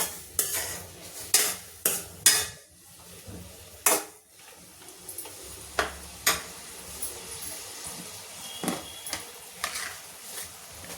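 Mushrooms fry in oil in a pan for a mushroom gravy, a low sizzle under repeated sharp knocks and scrapes of a spoon stirring against metal, spaced irregularly.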